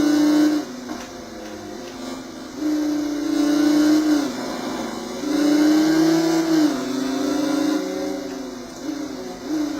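Motorcycle engines race in the video game Riding Spirits 2, with a Hayabusa close behind; a steady, rising and falling high whine of revving bikes runs loudly throughout with no voices.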